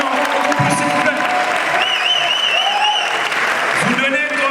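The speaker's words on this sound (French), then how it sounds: "Vous donnez quand même des applaudissements à quelqu'un que vous avez fait travailler pendant un mois." Applause from a comedy show audience, clapping fills the room in a dense, steady wash while a performer talks over it.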